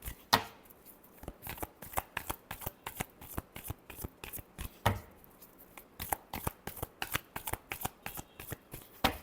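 Tarot cards being shuffled by hand in a long run of crisp riffling flicks and soft slaps, close and steady with brief pauses, alone without talk.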